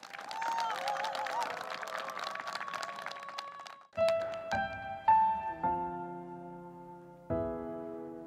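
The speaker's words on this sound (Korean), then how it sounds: "큰 박수로 환영해 주시기 바랍니다" Audience applause at a Buddhist choral festival concert, welcoming a Korean traditional (gugak) singer onstage: a dense crowd clapping for about four seconds, then cut off as music with sustained instrumental tones begins.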